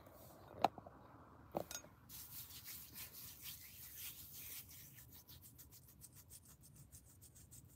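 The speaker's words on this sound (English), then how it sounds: "I actually rub my head a little while I'm sitting up" A hand rubs slowly over the head during a quiet neck and head massage, giving soft, close, continuous friction with a couple of sharper taps near the start, no voice.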